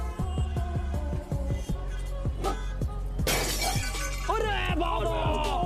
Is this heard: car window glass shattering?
yes